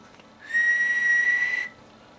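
A ham radio operator whistles one steady, sustained note into the microphone of a Tram D201A radio to test transmit power, a clear, close tone held for about a second with no speech around it.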